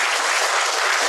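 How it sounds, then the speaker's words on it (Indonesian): Audience applause at a Buddhist talk, dense steady clapping filling the whole short stretch, loud and close with no voices over it. "tepuk tangan Bapak Ibu"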